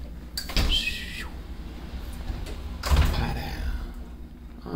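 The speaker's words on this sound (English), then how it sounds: "I want to open up this barn door here" A sliding barn door in an accessible hotel room rolls open, with a rumbling slide and a couple of heavier knocks as it moves along its track, close and fairly loud.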